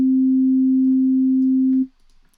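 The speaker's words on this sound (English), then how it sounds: "A smooth sine wave has no overtones." Pure sine wave tone from a Helm software synthesizer, a single loud steady pitch with no overtones, held for under two seconds before cutting off to near silence.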